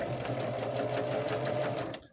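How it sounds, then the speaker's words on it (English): A Husqvarna Viking sewing machine, an older non-computerized model, runs steadily at close range with a continuous motor hum and rapid, even needle clatter, stopping abruptly at the end. "Husqvarna Viking. It is the oldest machine that I have in my collection."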